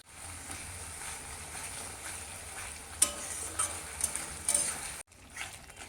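Ginger, garlic and onion masala frying in a pan for fish malai curry, a steady soft sizzle with scattered scrapes and clicks of stirring, cutting off briefly near the end.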